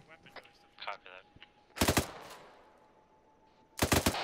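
Airsoft guns fire in two sharp, loud bursts of rapid automatic shots during a forest milsim game, separated by a couple of seconds, with brief voice chatter beforehand.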